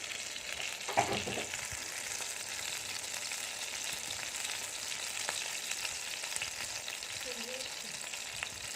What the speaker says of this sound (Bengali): তেল বেরোচ্ছে মাছ থেকে। খুব বেশি আমি কিন্তু ফ্রাই করে নিই